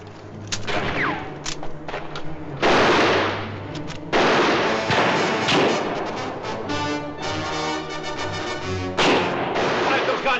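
Repeated gunfire in a 1955 western film shootout, sharp cracks and booming shots scattered across the scene, loud and close, mixed with music and shouted voices.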